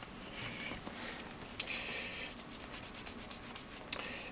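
A microfiber cloth rubs vinyl wrap onto a small motorcycle part, a close, soft, continuous scrubbing with a few brief squeaks and taps.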